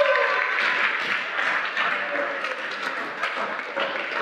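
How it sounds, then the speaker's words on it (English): A college convocation audience applauds in a sustained, dense wash of clapping that stays loud and even for several seconds, with faint voices underneath. "Let's give them a round of applause."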